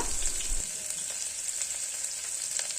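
Long-sliced onions hiss and crackle in hot oil with cloves, cinnamon and cardamom, a close, steady bright sizzle after a brief thud of the onions going in.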